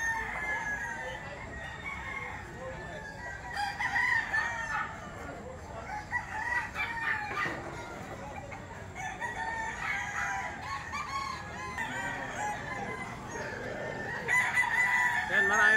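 At a market stall selling chickens, roosters crow repeatedly amid steady clucking from many fowl, with a busy background murmur and occasional voices.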